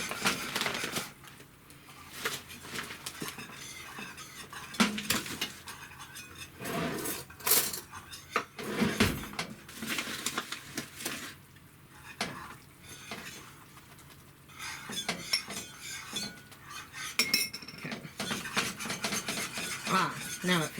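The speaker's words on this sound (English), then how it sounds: "I really don't want to stop stirring this" Flour roux stirred in a pot for mac and cheese in a small kitchen, a steady stream of scraping and clinking from the utensil against the pot, continuous and close throughout with no talk.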